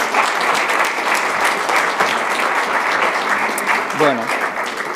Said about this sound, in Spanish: lo vamos a recibir con un fuerte aplauso